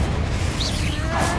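A fiery Confringo spell blast in the Hogwarts Legacy video game, a dense rumbling boom that fills the whole short moment with a loud, steady roar.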